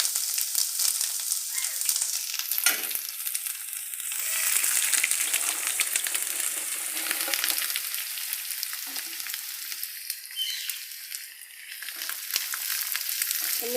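Ginger and garlic sizzle steadily in hot oil alongside popping mustard seeds while a garlic pickle is cooked, a continuous bright frying hiss heard close and alone throughout.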